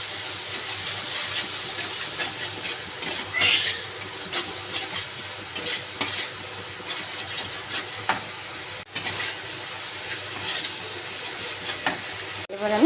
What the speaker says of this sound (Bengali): এবার মশলাগুলোকে আমি ভালো করে কষে নেব।